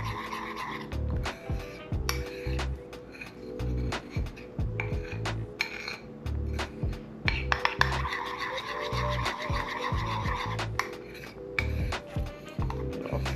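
Protein toast batter being mixed by hand in a bowl, with a steady run of scraping, tapping whisk or spoon strokes against the bowl, close and fairly loud, with no talking.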